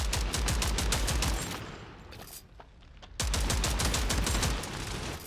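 Rapid gunfire bursts from the mobile war game World War Heroes, tight repeated shots in two volleys separated by a quieter gap, loud and close.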